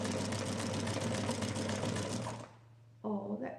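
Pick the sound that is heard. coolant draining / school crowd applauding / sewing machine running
sewing machine running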